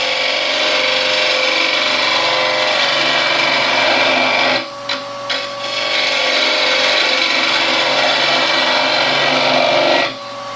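Spindle turning on a wood lathe: a steady, loud scraping hiss of a tool cutting half beads into a spinning workpiece, briefly lifting off twice mid-way before resuming the continuous cut, with no voices.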